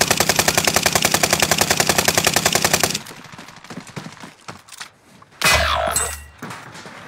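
Rapid automatic gunfire in a video game shooter, a loud sustained burst of evenly spaced shots for about three seconds, then scattered clanks and impacts and a sharp explosive blast.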